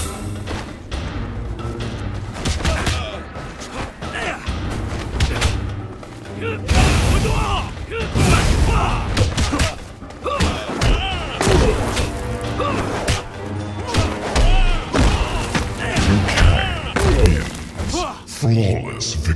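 Fighting blows in the Mortal Kombat vs DC Universe video game: a dense run of loud thuds, whacks and crashing impacts in irregular bursts over game music and effects, with announcer and character voices heard at points.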